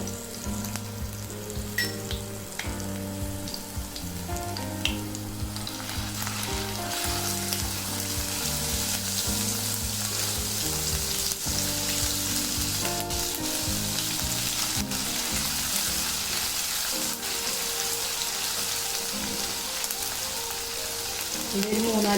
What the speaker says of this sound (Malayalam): എണ്ണ ചൂടാകുമ്പോൾ വെളുത്തുള്ളി ഇഞ്ചി പേസ്റ്റ് ഇട്ട് കൊടുക്കും.